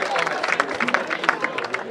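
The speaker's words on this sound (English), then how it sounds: "Give him a round of applause." Crowd applause at a high school football game, with scattered claps and cheering, steady and fairly loud, mixed with a murmur of voices throughout.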